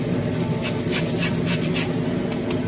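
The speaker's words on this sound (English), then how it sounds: "So I'm going to add the zest of 1 lemon." A lemon's peel is rasped against a fine grater in quick, regular strokes, a close, dry scratching rhythm repeating several times a second, heard alone without talk.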